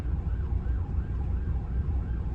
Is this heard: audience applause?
no